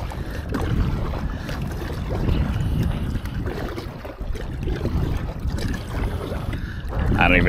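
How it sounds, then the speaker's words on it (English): A kayak is paddled on calm saltwater, with soft splashes and water swishing under steady wind noise on the microphone, and a voice speaks briefly. "I don't even know why I'm paddling."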